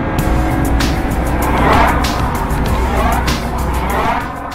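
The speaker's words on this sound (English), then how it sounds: "This is an everyday Lotus, a mid-engine four-seater with room in the boot for golf clubs." A Lotus Evora, a mid-engine four-seater, drives past with a loud, steady engine rumble and road noise, broken by a series of sharp ticking clicks.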